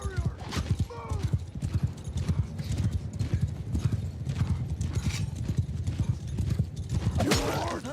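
Horse archers galloping in a medieval battle video game, heard as dense, rapid clip-clopping hoofbeats with a neigh or two, loud and continuous throughout.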